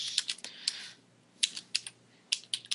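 Quiet, close keyboard typing at a computer during game development work, with irregular short clusters of clicking keys and brief pauses between them.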